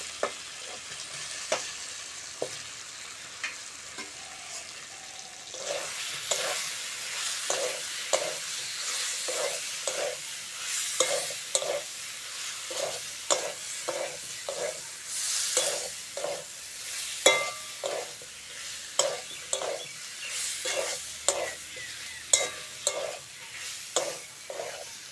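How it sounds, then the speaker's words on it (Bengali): Boiled potato and papaya sauté in spice masala for an egg curry, a constant sizzle punctuated by a long run of regular spoon knocks and scrapes against the pan, close and steady, with no voices. "মশলার সঙ্গে আলু আর পেঁপেটা ভালো করে কষে নিয়েছি"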